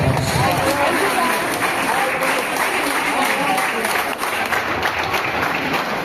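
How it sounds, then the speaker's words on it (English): Audience applause at an inter-house quiz competition in a higher secondary school, a loud, steady roar of clapping from many people that runs for about six seconds, with some voices mixed in beneath it. "Let's give them a huge round of applause."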